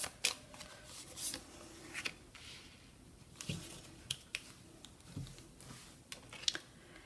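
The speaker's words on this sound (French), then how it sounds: "Je vais remonter les cartes," Tarot cards are handled and gathered in a quiet room, making a string of crisp, scattered flicks and soft shuffling slides at close range, with no voices.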